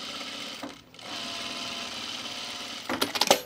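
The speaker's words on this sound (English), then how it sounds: "I'm just gonna reinforce the stitching through the rise here" A sewing machine runs a reinforcing row through the rise seam of chino pants, close and steady with a brief pause, then ends in a few sharp clicks and clatters.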